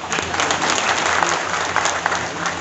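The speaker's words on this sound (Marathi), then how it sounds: "नमस्काराला इकडे टाळ्या वाजवतात का?" Audience applause fills a hall at a talk on naturopathic home remedies: dense, steady clapping from many hands, loud and close, lasting the whole short stretch.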